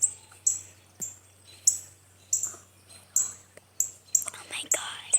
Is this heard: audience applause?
no